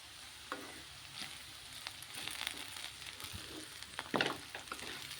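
Sliced okra fries in a pan, giving a soft continuous sizzle with scattered crackles and spatters. Occasional stirring scrapes rise briefly near the end, with no voices.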